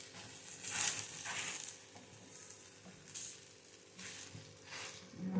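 Vegetables roast in a pan with a soft, quiet sizzle. Scraping stirs come in intermittent bursts, close by, with no talking.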